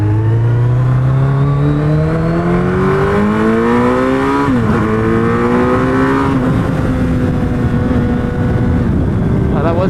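Suzuki Hayabusa motorcycle accelerating hard, its loud engine note climbing steeply through several gear changes with brief dips between shifts, close and continuous.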